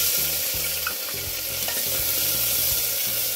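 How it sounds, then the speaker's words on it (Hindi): Chopped onion frying with green chilli and cumin in a pan for lauki sabji, a constant oil sizzle broken by repeated scraping knocks of a spoon as it is stirred, close and with no talk. "थोड़ा ब्राउन होने तक भूनूंगी।"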